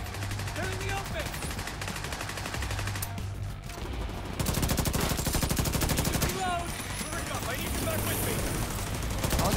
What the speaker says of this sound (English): Oh, the turret can shoot that far away, that's cool.